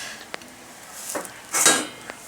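Matar pulao rice is dished out with a few sharp metal clinks of serving utensils against the pot and plate, scattered taps and one louder scrape, close and otherwise quiet.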